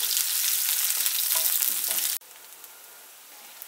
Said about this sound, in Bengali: এখন কড়াইতে কুচানো পেঁয়াজটা দিয়ে দিলাম, পেঁয়াজটাকে একটু ব্রাউন করে ভেজে নিচ্ছি।